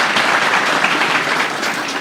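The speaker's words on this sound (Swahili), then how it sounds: "Mheshimiwa CPA Ruto kutoka Keses, mjumbe wa Keses, tumpigie makofi." An audience at a school event at Kapsabet High School in Nandi County applauds, dense sustained clapping from many hands, loud and close throughout.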